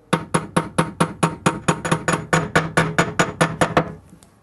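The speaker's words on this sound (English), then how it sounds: "just drop it into place and just gently start tapping that outside edge" Rapid, even run of about eighteen metal-on-metal taps as bearings and a seal are driven into an Electrolux washing machine drum, close and fairly loud, ending abruptly with faint handling after.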